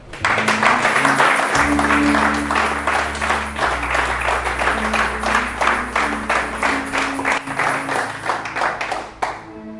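A church congregation claps in a steady rhythm over low sustained music. The clapping is loud and dense, keeps a regular beat for almost ten seconds, and thins out near the end.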